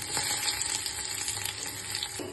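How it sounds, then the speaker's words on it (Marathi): Ginger and garlic frying in hot oil in a pot, a loud continuous close sizzle with faint stirring scrapes throughout. "पातेल्यामध्ये मी तेल घेतलंय, त्यामध्ये अद्रक लसूण ऍड केले"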